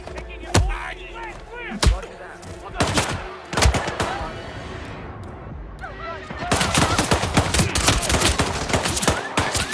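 Gunfire in the video game Hitman 3 cracks out loud and close: a few separate heavy shots, then a dense, sustained burst of rapid fire, with game voices and action sounds mixed in.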